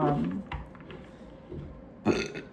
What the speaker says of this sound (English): confirmation burp.